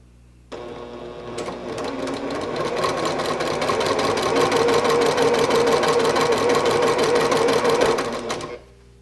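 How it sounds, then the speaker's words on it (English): A sewing machine stitches two quilt fabric pieces together along a seam, starting abruptly and running steadily and loud with a fast, even mechanical rattle for about eight seconds before stopping, with no talk. "I'm going to stitch lining up the edge of the fabric with the edge of that tape."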